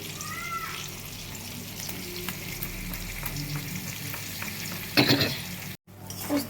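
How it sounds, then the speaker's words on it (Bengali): Red-fried pointed gourd sizzling quietly in a pan as poppy seed paste is added, with steady low frying hiss, a few stirring scrapes and a brief clatter near the end. "পটলটা আমার লাল লাল করে ভাজা হয়ে গেছে, এরপর আমি এর মধ্যে পোস্তটা দিয়ে দেবো।"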